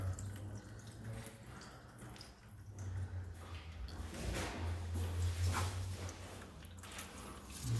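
Water rushes and gurgles steadily as it drains through a pipe, close by, with a low constant hum beneath.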